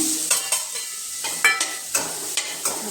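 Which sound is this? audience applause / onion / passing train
onion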